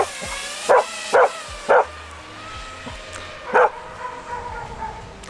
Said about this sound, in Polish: zaraz zacznie szczekać